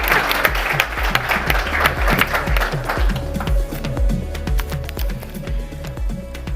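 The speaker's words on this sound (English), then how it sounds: "Guys, clap." Audience applause at a young professionals' investment event: dense, steady clapping from a crowd that holds loud and even across the whole stretch, with no talk over it.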